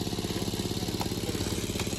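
A water pump motor drains a village pond, running with a steady, even mid-pitched drone and a rapid regular pulse, droning alone without voices.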